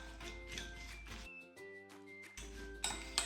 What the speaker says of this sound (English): I'm gonna give this a nice stir to coat the nuts.